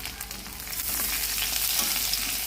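Tomatoes hitting hot oil in a kadai alongside prawns, with green chillies already in, for a cauliflower, potato and prawn curry; a steady, close sizzle that swells louder after the first second and holds with a busy crackle.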